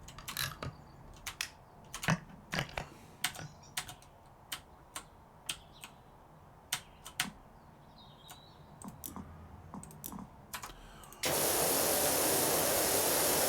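A pressure washer with a yellow nozzle blasts spray paint off a skatepark in PowerWash Simulator. Scattered sharp clicks come first, then a loud, steady rushing spray takes over for the last couple of seconds.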